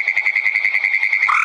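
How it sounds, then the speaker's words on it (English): A recorded frog croaks in a rapid, steady pulsing trill, loud and close, played as a fishing-lure call sound. "using these various songs: frogs, croakers, frog singers"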